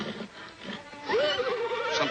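A horse in distress, being attacked, whinnies loudly and shrilly, its cry wavering for about a second after some low rustling and muffled movement.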